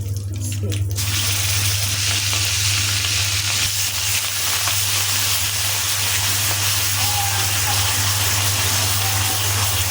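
Onion paste hitting hot oil with bay leaves, cinnamon and cardamom while shrimp malai curry is cooked, giving a loud, steady broadband sizzle that runs the whole time with a low hum beneath and a brief clatter at the start.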